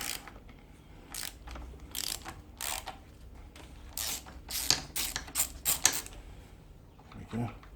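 Socket ratchet clicking on the steering head of a Suzuki GSXR750 during a bearing replacement, a run of sharp close-up ratcheting bursts in quick irregular strokes with brief pauses between them.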